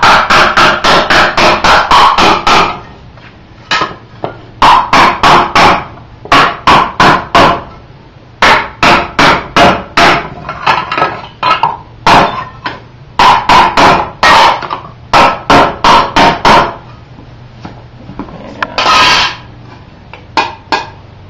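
Rapid bursts of loud, ringing hammer blows on a metal armor plate being flattened, struck close by in quick repeated runs separated by short pauses, with no talking.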